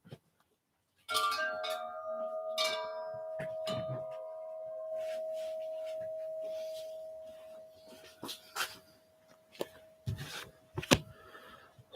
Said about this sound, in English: I'll give you some bells.